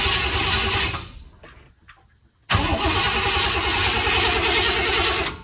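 A 4x4 van engine cranks and catches with a sudden loud roar after a brief quieter spell, then settles into a steady, rumbling idle, close and dominant.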